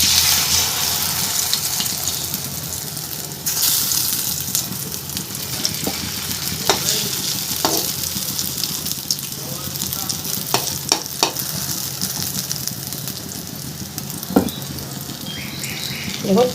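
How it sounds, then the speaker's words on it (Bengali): Potato batter dropped into hot mustard oil, a steady frying sizzle with scattered sharp pops and clinks of utensils, fairly close and continuous, no talking. "তেল গরম হয়ে গেছে, আলুর ব্যাটারের থেকে একটুখানি আলু নিয়ে তেলের মাঝখানে দিয়ে দেবো"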